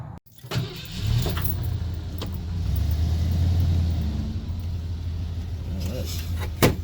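A Brougham car's engine runs and rolls off on a test drive, a low steady rumble that swells slightly, with a voice speaking over it.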